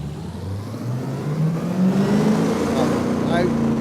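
A modded video game car's engine revs up steadily in third gear, its pitch climbing smoothly over a few seconds toward the red line, loud and continuous.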